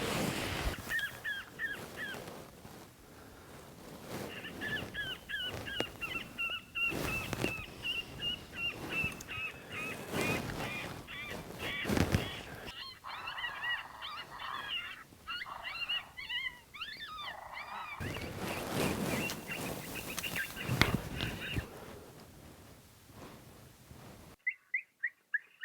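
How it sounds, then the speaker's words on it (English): An electronic predator caller plays a Lucky Pecker woodpecker distress sound and then pup distress calls outdoors, loud repeated squealing and yelping cries in bursts, ending with a short pause and a few more calls. "I'm gonna start off some Lucky Pecker and then roll into those pup distresses"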